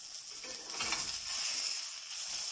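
Onions and garlic frying in a pan while a burger is made at home, a soft steady sizzle with a brief stir partway through, close and quiet, no talking.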